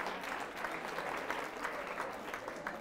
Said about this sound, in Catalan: Aplaudim-los aquests centres educatius